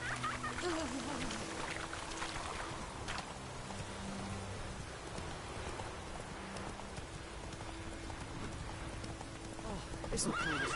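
In The Witcher, a horse neighs and trots through rain. Hoofbeats and whinnies sit over a constant hiss of rainfall, with game music underneath throughout.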